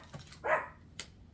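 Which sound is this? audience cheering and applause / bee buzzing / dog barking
dog barking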